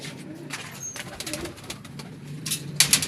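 Teddy pigeons coo softly amid low background noise and some voices, with a few sharper sounds near the end.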